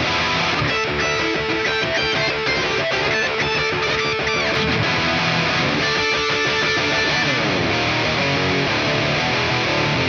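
Distorted electric guitars play the verse of a song with two parts panned left and right, a dense, loud, continuous wall of chugging riffs with steady rhythmic attacks throughout and no voice.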